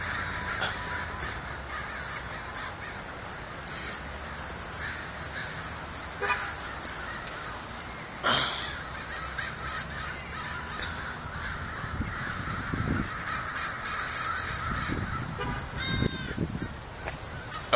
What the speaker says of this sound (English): it's just huge amounts of birds